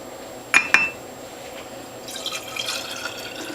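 Cantaloupe juice with turmeric and ginger poured into 14-ounce bottles, beginning with two sharp glassy clinks and then a steady, close liquid trickle and splash as the bottle fills.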